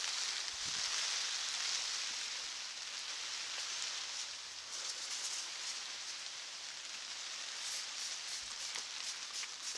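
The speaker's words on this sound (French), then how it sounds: "Donc là il pleut, ouais, énormément." Steady, heavy rain hisses continuously, a dense wash of pattering drops with no voices, constant and even throughout.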